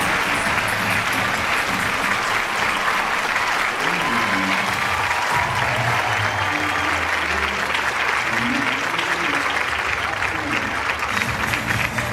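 Schoolchildren clap to welcome Union Minister Suresh Gopi at a school, a loud, dense applause that holds steady throughout, with crowd voices mixed in beneath it.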